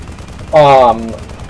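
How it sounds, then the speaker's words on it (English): Chain gun fire in the video game Tribes Ascend, one short, loud, rapid burst lasting under half a second before cutting off over quiet background. "they have this chain gun, which isn't really any different from the SMGs or the assault rifles"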